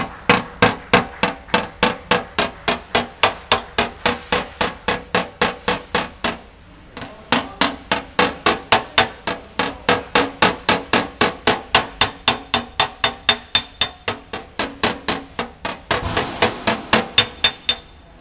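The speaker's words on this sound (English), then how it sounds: "get my picking hammer, my universal dolly, and very lightly give it a bit more" A picking hammer taps metal against a universal dolly during metal finishing, giving a long steady run of light, rapid, evenly spaced strikes, close by, with one brief pause and no talk.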